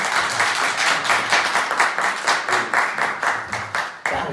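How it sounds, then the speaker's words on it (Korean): A church congregation claps in welcome of a first-time visitor, with rhythmic, fairly even applause at moderate loudness for about four seconds before it stops abruptly, no talking over it. "환영의 박수"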